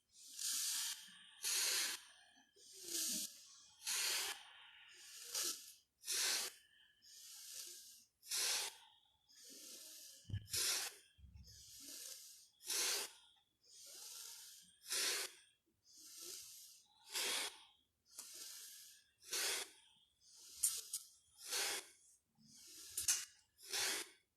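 Heavy, rhythmic breathing during a seated cat-cow exercise in tantric practice, roughly twenty close, forceful hissing breaths in an even cycle with short pauses between.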